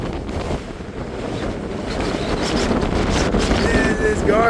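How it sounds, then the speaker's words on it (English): Strong, gusty wind roars over a high mountain overlook in Glacier National Park's Two Medicine area, a steady broadband rush buffeting close against the microphone and building slightly louder toward the end. "wind is powerful"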